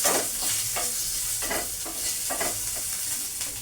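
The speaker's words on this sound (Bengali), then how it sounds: "এই আলুগুলো দিয়ে দেবো আলুগুলো একটু ভাজবো" Potatoes sizzle in a pan of hot oil with salt added, hissing steadily while a spatula stirs them in repeated scraping strokes, close and fairly loud with no talking.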